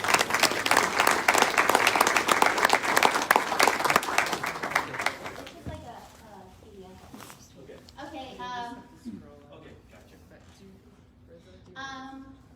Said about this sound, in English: Let's give Mercedes a round of applause.